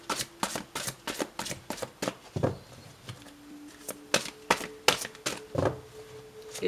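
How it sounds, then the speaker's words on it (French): Tarot cards being shuffled by hand in quick, crisp riffling bursts, close and quiet, with short pauses between the rapid flurries of card snaps. "Et j'ai une carte qui est tombée"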